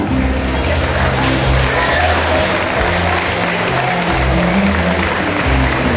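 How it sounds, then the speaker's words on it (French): Audience applause at a Creole costume presentation, loud and continuous with strong low rumbling and steady clapping texture throughout. "Vos applaudissements."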